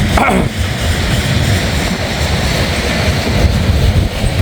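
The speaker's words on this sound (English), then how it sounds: "Once the train passes, I'll show you." A freight train rumbling past on a grade in Northern Kentucky, a loud, steady low roar with rolling rail noise that fills the whole stretch without letup.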